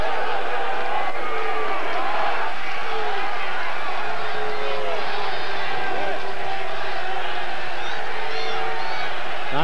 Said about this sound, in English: Crowd didn't like that last call.